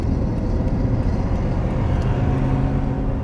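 Mercedes McLaren SLR exhaust rumbling steadily while driving, a loud, continuous low drone with road and engine noise filling the whole stretch, no voices.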